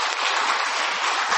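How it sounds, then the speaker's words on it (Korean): A church congregation claps for the Sunday school children at a Christmas Day service, a brief, dense burst of steady applause. "박수 한번 쳐드립시다."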